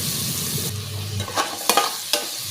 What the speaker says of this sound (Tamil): கொஞ்சமாக தட்டி வச்ச வெள்ளைப்பூடு, ஒரு பெரிய வெங்காயம் சேர்த்து நல்லா வதக்கிக்கிறணும்